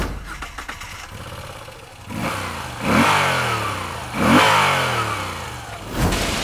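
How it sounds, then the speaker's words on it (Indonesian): A Moto Guzzi V9 Bobber engine idles, then is revved hard three times in quick succession, each rev rising and falling, close by with no talk. "Kalau di kondisi idle lu geber gitu loh, lu puter gasnya gitu"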